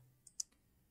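Computer keyboard being typed on while entering a command: three quick, light key clicks within half a second, faint and close, with no voices.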